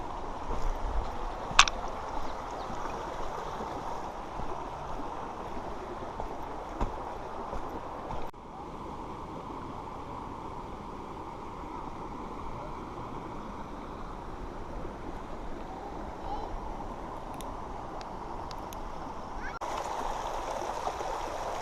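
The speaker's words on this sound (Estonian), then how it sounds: "Nüüd teen jälle väikese ojaületuse, sest siin lähevad põhja ja lõunaharu lahku." A small creek in Mill Creek Canyon near Moab, Utah, heard during a hike crossing: a steady, soft rushing of flowing water with faint wind, continuing evenly throughout with a few light knocks.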